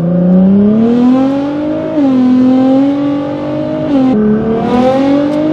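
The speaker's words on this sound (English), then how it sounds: "let's do some second gear pulls." A car pulls hard in second gear, its engine note climbing steadily in pitch and dropping briefly at each shift. The loud, close revving runs continuously, with no voices.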